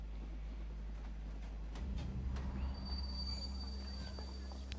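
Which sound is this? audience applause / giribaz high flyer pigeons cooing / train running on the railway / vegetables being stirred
train running on the railway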